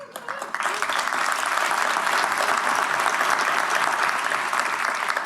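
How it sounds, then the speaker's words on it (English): Sustained applause from a large audience at a city State of the City address, honoring a long-serving city manager; dense, steady clapping fills the room at even loudness for several seconds. "she deserves a round of applause"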